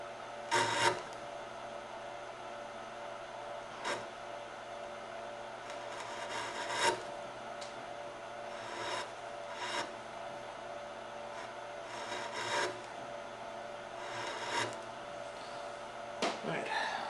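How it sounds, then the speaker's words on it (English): Wood rasp filing wood while carving, repeated scraping strokes at an irregular pace, close and moderately loud, with faint background noise between strokes. "Usually use a bench chisel first, and if that doesn't work, I'll default to a rasp."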